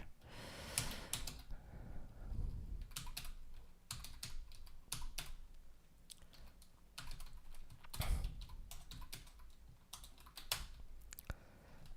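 Fast, uneven computer keyboard typing while coding in C, with bursts of key clicks and short pauses, close and moderately loud, occasional louder thumps and breaths, no talking.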